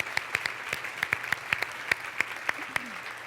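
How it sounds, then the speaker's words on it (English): A round of applause at a women's leadership luncheon: scattered individual claps ring out at irregular intervals, fairly faint and distant, with a soft murmur beneath them and no speech. "Should we give her another round of applause?"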